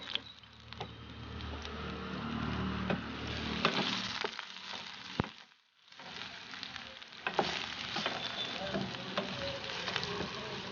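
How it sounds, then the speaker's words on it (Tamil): Chopped small shallots frying for mutton sukka, with a steady close sizzle and occasional stirring clicks, and a brief dip near the middle. "வெங்காயம் வதங்கிக்கிட்டு இருக்க டைமில் நம்ம வந்து 1 கொத்து கருவேப்பிலையை வந்து சேர்த்துக்கலாம்."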